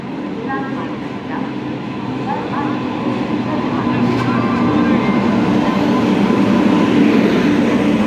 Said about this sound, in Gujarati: તો આમાંથી યોગા એક્સપ્રેસ છે એ આવે છે।